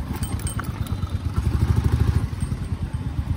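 A Royal Enfield motorcycle ridden slowly, its single-cylinder engine thumping in a low, steady pulsing beat close to the listener, with light wind noise above and no talking.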